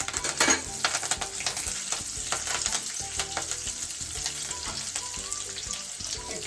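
Curry leaves crackle and spit in hot oil in a pan for puffed rice upma, a dense, loud sizzle with stirring scrapes and sharp pops running throughout.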